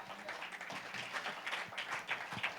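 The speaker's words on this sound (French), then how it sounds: "Applaudis le Seigneur." A church congregation applauding in praise during a French-language sermon, steady dense clapping running throughout with scattered louder hand claps rising above the crowd.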